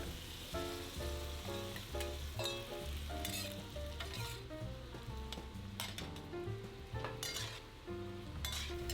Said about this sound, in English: to stir fry for about a minute, then add the wine.